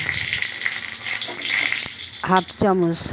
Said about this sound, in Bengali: এক চামচ মতন সাদা তেল দিয়ে গোটা জিরে ফোড়ন দিলাম